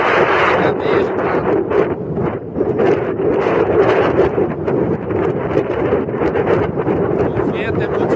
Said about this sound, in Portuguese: O vento é muito forte.